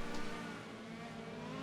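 Steady engine roar of GTE race cars streaming past in a racing video game at Chang International Circuit, a dense continuous drone with no voices.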